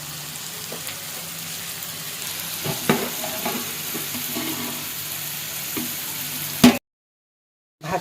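Long beans stir-fry in hot oil for fried rice, giving a steady sizzle with occasional scraping clicks from stirring, then a sudden cut to silence near the end.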